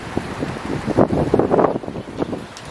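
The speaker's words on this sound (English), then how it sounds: "Just had some really big gusts of wind coming in." Strong gusts of wind rush past an axial flux wind turbine outdoors, a loud, uneven whooshing that swells and fades in waves, heard alone with no talking.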